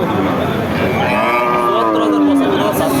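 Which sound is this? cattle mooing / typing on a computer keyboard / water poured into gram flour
cattle mooing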